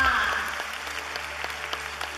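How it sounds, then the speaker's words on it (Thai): An audience at a Thai fan club charity concert claps after a cash donation is presented, the applause loud at first and then thinning into scattered claps beneath a talking voice. "ขอเสียงปรบมือด้วยค่ะ"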